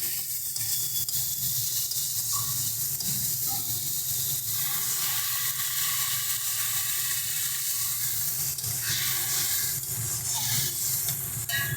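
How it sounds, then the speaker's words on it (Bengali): Water is poured bit by bit into spices frying in a wok (kadai) for a fish-roe fritter and potato curry, producing a loud, continuous close sizzle and hiss with no talking. "প্রথমেই একবারে কিন্তু জলটা ঢেলে দেবে না, অল্প অল্প করে দিলে"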